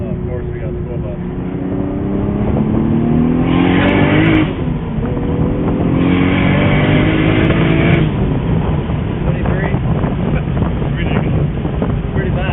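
A car engine drones loudly and steadily, rising in pitch as it revs, with wind buffeting the microphone and occasional voices over it.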